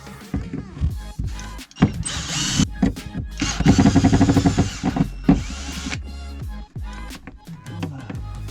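A power tool whirring in short bursts while unscrewing a lift pump, a close buzzing drive rising and stopping several times, with a longer run midway and someone speaking French between bursts.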